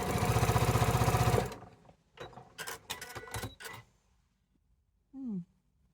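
A sewing machine stitches a quilt block in a fast, loud, even burst for about a second and a half, then stops. A few short clunks and knocks from the machine follow, and a brief voice sound comes near the end.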